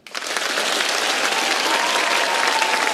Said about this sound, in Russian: Давайте похлопаем.